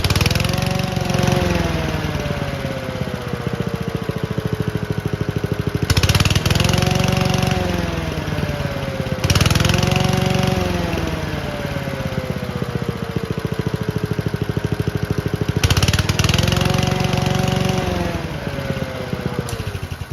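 Lawn mower engine that runs rough, loud and close, settling to idle and then revving hard several times in repeated surges, with a slight stutter as the throttle opens, no voices over it.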